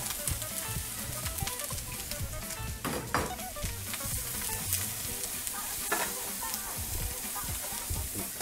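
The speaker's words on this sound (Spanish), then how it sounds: "Solo la cebolla frita, que es tan entrañable." Onion frying in hot oil in a home kitchen, a steady close sizzle with scattered crackles and occasional stirring clinks, no voices over it.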